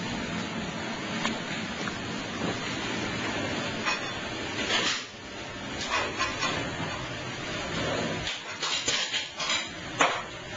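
Bowls and dishes clatter and clink in a small galley, with several sharp knocks and scrapes of crockery over a steady background hiss.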